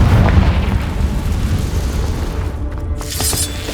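A Confringo fire spell exploding in the Hogwarts Legacy video game: a loud, sustained, rumbling boom that fills the moment and fades into a crackling tail, with no talking.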